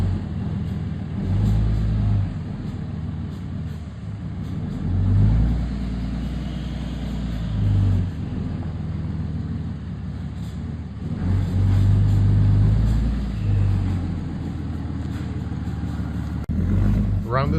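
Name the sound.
diesel truck engine backing up a container trailer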